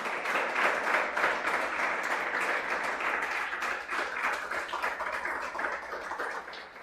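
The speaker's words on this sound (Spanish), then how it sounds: "Den un aplauso al Señor." A church congregation claps together in applause during a service, a full, steady burst of many hands that holds strong for several seconds before gradually thinning out at the end.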